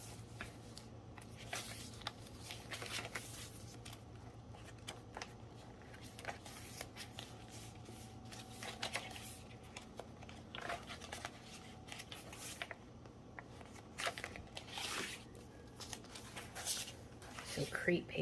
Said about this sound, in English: Crepe paper just for texture.